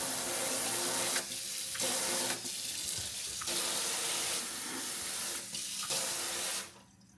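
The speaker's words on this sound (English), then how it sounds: "let's try the server faucet." Water from a kitchen sink faucet runs in a steady close rush, cutting in and out several times as the flow is switched on and off.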